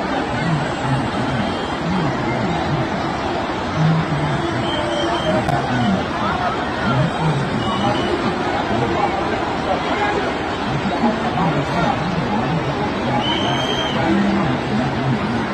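A huge crowd of pilgrims at the Maha Kumbh festival in Prayagraj, a steady dense hubbub of many distant voices and footsteps, with a reporter speaking over the continuous crowd noise.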